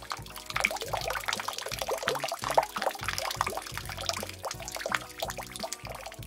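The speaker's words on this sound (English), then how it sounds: "Now we pour into a tray and bake" Cake or cookie mixture pours into a baking tray in a family kitchen at Christmas, a soft, close, uneven liquid gurgle and splatter lasting several seconds.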